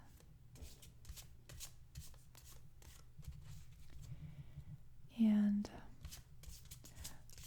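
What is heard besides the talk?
shuffling a deck of cards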